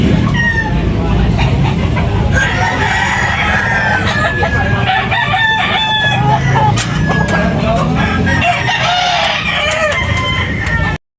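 Roosters crow repeatedly and chickens cluck close by at a poultry market in Tabunok, Talisay, Cebu, overlapping one another amid busy crowd noise and talking voices.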